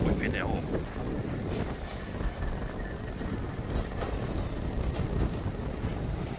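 A train moving along platforms 7 and 8 at Manchester Piccadilly station on a windy day, with rumbling wheels and faint squeals and clicks sustained throughout, close and fairly steady under gusting wind.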